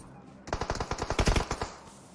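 Rapid automatic gunfire in the mobile battle-royale game PUBG Mobile: a tight burst of about a dozen loud, sharp shots in quick even rhythm, close and punchy, with no talk over it.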